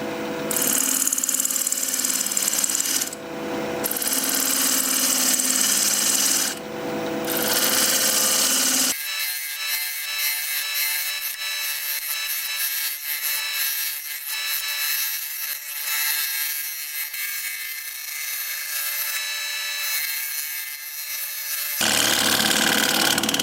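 Wood lathe turning a wooden bowl with a gouge, a loud steady whir with rough scraping that changes texture as the tool cuts, continuous throughout.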